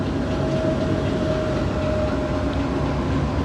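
A train waits at a station beside a Hitachi locomotive on the Bahawalpur to Lahore line in Pakistan, a loud continuous diesel rumble and drone with a faint steady whine over it.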